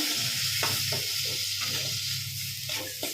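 Chili powder and coriander powder are stirred into onion and tomato frying in oil for a dried fish and egg fry, giving a continuous close sizzle broken by repeated scraping stirs.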